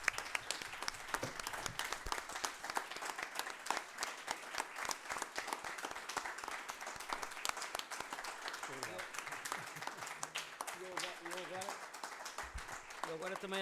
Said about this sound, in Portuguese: proponho uma salva de palmas ao Manuel Graça Dias e ao Egas Vieira.